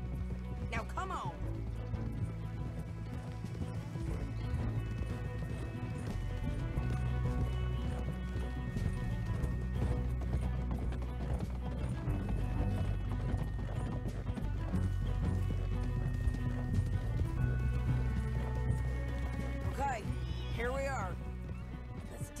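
Horses gallop in a Western video game with steady clip-clop hoofbeats and a dense game soundscape, with voices talking over it throughout.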